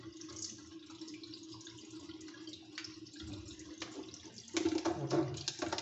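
Tap water runs over the impeller of a Fluval 306 canister filter as it is rinsed in a sink, a quiet steady splash that grows louder and fuller toward the end.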